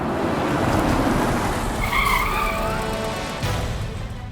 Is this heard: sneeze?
no